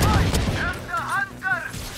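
Gunfire in the tactical shooter Valorant: a dense burst of game shots packed into the opening moments, then tonal in-game effects under loud chatter as players speak throughout.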